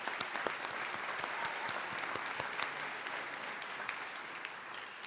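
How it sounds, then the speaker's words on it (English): An audience at a university alumni convocation gives a round of applause for the Indianapolis alumni, with steady, dense clapping from a fairly distant crowd that holds even for the whole stretch. "But a little round of applause for Indianapolis"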